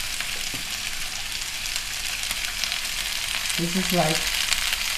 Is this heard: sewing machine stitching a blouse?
no